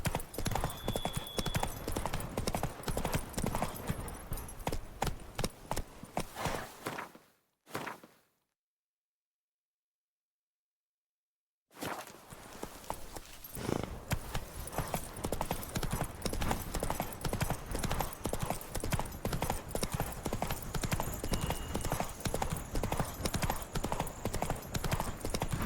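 Roach the horse galloping in The Witcher 3, with rapid rhythmic hoofbeats close and loud, cutting out to silence for a few seconds midway, then resuming at the same quick pace.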